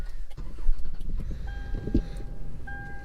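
A 2019 Toyota 4Runner is started by push button, the engine catching and settling into a low idle close by, with a faint chime tone partway through.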